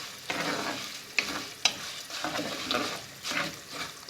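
Rize kavurma, a fried meat, goes into a pan and is stirred, giving a soft sizzle broken by several sharp scrapes and clinks of the utensil against the pan.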